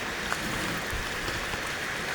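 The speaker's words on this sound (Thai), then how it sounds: "เป็นทางน้ำไหลมาครับ" Rainwater running down a channel after a rainstorm, a steady, soft rushing and trickling flow at low level with no voices.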